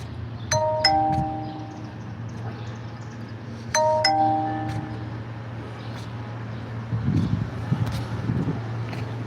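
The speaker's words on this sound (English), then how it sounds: "And what you're hearing right now are like church bells." Church bells ringing in an Alabama city on a morning walk, two clear clusters of bright, ringing strikes a few seconds apart, heard at a moderate distance over a low steady traffic hum.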